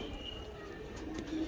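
A breeder's pigeon coos softly in a loft, low and faint against a steady background hum, with no clear talking.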